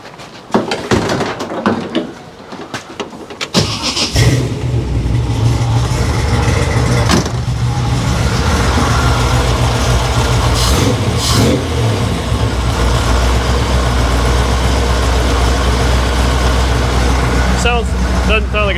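A vehicle engine cranks and catches, then settles into a steady, loud idle with a constant low hum that runs to the end, while people talk over it.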